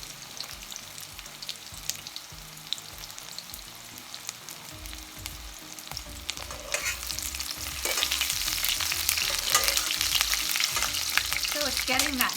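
Chicken pieces for sesame chicken fry in about an inch of oil, a steady close sizzle with scattered stirring clicks that grows louder and brighter toward the end.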